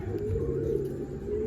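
Racing pigeons arriving at their loft during a race coo softly and steadily close by, a low continuous murmur of birds with faint fluttering.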